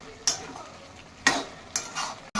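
Lentil fritters being added and stirred into a banana flower curry in a pot, a few distinct scraping stir strokes with a soft sizzle in between, close and moderately loud.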